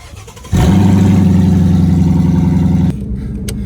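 A Ford Mustang S550 engine runs with its exhaust removed, roaring loud and raw for about two and a half seconds before dropping to a lower rumble.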